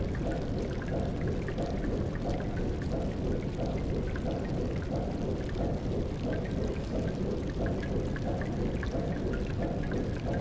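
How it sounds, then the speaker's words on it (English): A waterfall in the video game Xenogears gives a steady, dense rush of falling water, an even roar that holds at constant loudness throughout. "We got a waterfall down here, too?"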